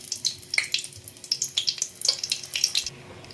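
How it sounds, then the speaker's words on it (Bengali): Dried red chillies crackle and pop in hot mustard oil in a kadai, with close sharp spits and sizzles over about three seconds that settle toward the end. "তেলটা প্রায় গরম শুকনো লঙ্কা ফাটিয়ে দিয়ে দিচ্ছি"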